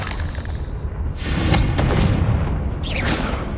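A Confringo fire-blast spell explodes in Hogwarts Legacy on PS5, a deep rumbling boom that swells and sustains for several seconds with crackling debris, no voices over it.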